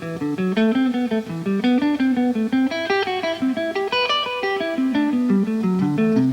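Triad exercise on guitar played slowly, one picked note per string, a steady stream of clear separate notes continuing throughout without talking.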